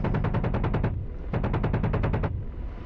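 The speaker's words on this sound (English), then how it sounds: "we will just shoot some gun rounds here just to suppress any remaining possible infantry" Apache helicopter gun in the DCS World combat game firing two rapid bursts of rounds, each about a second long with a brief pause between, loud and close with a rumbling tail.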